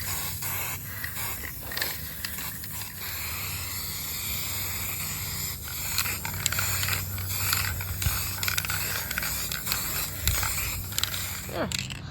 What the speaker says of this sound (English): An old table stand that I'm going to spray paint black